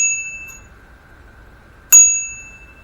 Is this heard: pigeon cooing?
no